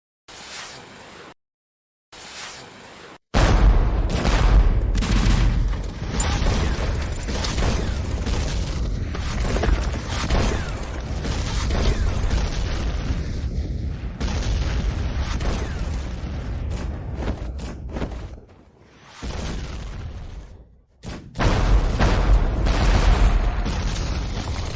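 Gunfire and explosions in a televised period action drama: a long, dense barrage of loud booms and bursts, broken by short silent gaps near the start and toward the end.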